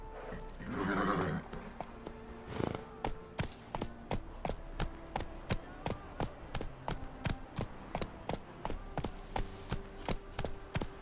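Roach, the horse in The Witcher 3, clip-clops at a steady walking rhythm with regular hoof strikes throughout, after a short whinny near the start, alone with no talk.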